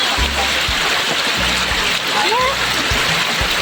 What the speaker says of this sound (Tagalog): Yan, naglalaba din siya, nagbabanlaw.